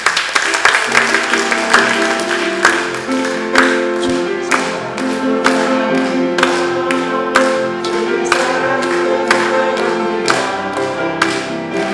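A church congregation at a Sunday service applauds to welcome newcomers, with steady rhythmic clapping pulsing over sustained instrumental music that plays throughout.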